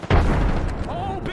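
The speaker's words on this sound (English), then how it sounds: "Oh, big nade!" A grenade explosion in the Apex Legends video game, heard as one sudden, loud, heavy boom that rumbles on for about a second, with game effects over it.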